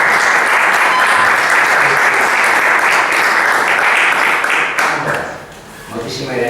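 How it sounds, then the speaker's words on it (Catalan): Loud, dense applause from an audience at a literary talk in a Catalan venue, sustained and even before tapering off toward the end. "No falta aplaudiment."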